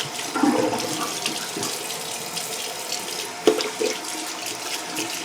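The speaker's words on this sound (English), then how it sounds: "Let me rinse the face. I'm going to do a quick cold rinse, real quick." A quick cold-water face rinse at a bathroom sink brings a close, continuous rush of tap water with irregular splashes and one sharper splash near the middle, with no voices.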